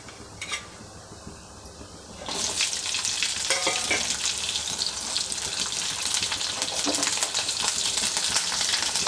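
Green chillies drop into hot oil in a pan, and a quiet start gives way to a loud, crackling sizzle that carries on steadily with a few light stirring clinks.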